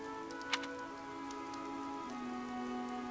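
Steady, soft rain falls in the video game Fire Emblem: Three Houses. The faint, even patter runs through the whole moment beneath sustained, droning musical tones.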